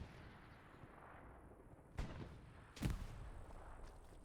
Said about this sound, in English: Beautiful grenade throw.